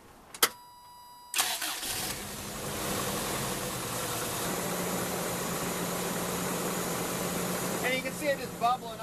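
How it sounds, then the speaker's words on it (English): A car engine cranks and catches after a brief click, then settles into a steady idle that runs on under a voice, during a check for a blown head gasket with the radiator open. "So now we'll start up the vehicle."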